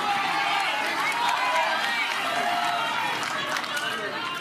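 A crowd at a pickleball world championship match between Anna Leigh Waters and Kate Fahey cheers and claps loudly on championship point, a steady roar under a commentator's voice.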